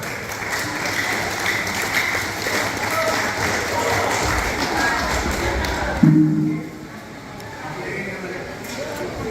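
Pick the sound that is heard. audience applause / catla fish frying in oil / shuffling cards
audience applause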